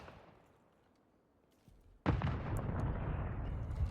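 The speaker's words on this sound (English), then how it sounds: "somebody got hit by a nade" A grenade detonates in a video game esports match: a quiet, fading rumble first, then a sudden loud blast followed by sustained crackling and rumbling debris.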